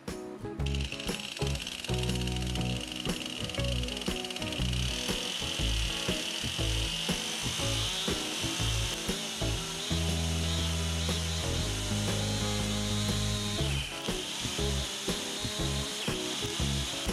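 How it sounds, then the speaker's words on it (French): A chainsaw cuts notches into wooden floor joists during a second-floor renovation, its engine droning steadily at close range with rough, shifting bursts as the chain bites through the wood. "Et à l'aide de la tronçonneuse,"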